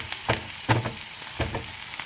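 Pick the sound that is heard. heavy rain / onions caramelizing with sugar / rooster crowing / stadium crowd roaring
onions caramelizing with sugar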